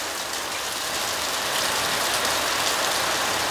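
Rain falls steadily in Sicily, a dense, even hiss of drops on surfaces with no pauses, fairly loud and close.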